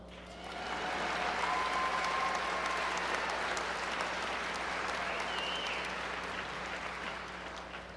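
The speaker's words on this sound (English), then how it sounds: "Applause is welcome." A large crowd applauds at a college commencement ceremony, dense continuous clapping swelling in after a quiet start and holding steady, with a faint hum underneath.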